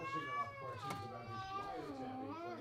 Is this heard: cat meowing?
yes